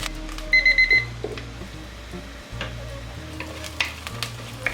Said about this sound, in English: saute 2 teaspoon crushed ginger and 1 tablespoon crushed garlic